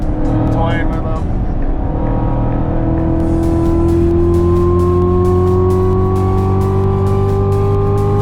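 A rally car at an RK Rally spring event revs and shifts, its engine tone climbing steadily in pitch with rising harmonics after a brief drop, loud and close, with people talking over it.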